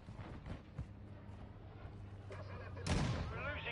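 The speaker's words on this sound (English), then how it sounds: "Friendly mortar strike inbound." Friendly mortar strike in Call of Duty Modern Warfare II, heavy impacts thudding beneath a voice and battlefield din, building to a louder blast near the end.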